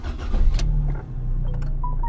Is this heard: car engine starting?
yes